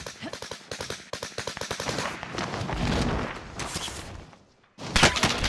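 Enemy gunfire in Call of Duty: Modern Warfare, with rapid loud bursts of automatic rifle fire crackling in quick succession, a sustained roar of shooting, a brief lull, then another close burst.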